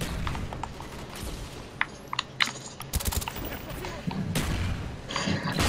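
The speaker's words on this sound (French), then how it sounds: "j'ai lancé une grenade au hasard, je l'ai eu" Gunfire and a grenade blast in the Call of Duty Black Ops 2 video game, with sharp bursts of shots and a booming explosion over dense game noise while players talk.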